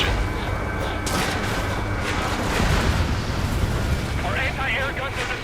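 Explosions destroying anti-air gun emplacements in the Ace Combat 7 video game, a dense rumbling roar of blasts and booms layered with jet and battle noise, loud and continuous throughout.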